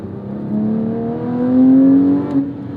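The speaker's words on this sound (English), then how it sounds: "We love the howl of the Metzger 6." A 2007 Porsche 911 GT3 (997.1) with its naturally aspirated Mezger flat-six revving: a loud, smooth howl rising steadily in pitch, peaking, then easing slightly, heard alone.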